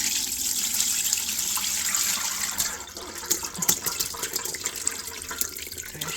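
Rendered tallow pours and splashes steadily through a strainer, a hissing gush up close that turns into uneven spattering trickles.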